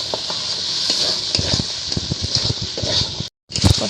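Small potatoes and peas stir-fried in a pan for a vegetarian potato dish, giving a steady close sizzle with irregular scraping and tapping of a spatula, then a brief silence before the sizzling resumes.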